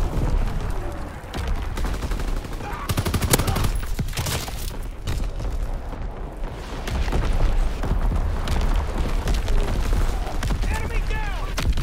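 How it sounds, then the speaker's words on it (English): Artillery shells and rapid gunfire in Call of Duty: WWII pound continuously and loudly, dense bursts of shots and booms layered under game radio chatter and voices. "Incoming enemy artillery. Get to cover."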